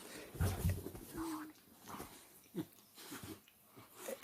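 Two dogs play-fight nearby with growls, snarls, snapping bites and whimpers in irregular bursts, fairly quiet overall, with a sharper burst at the end.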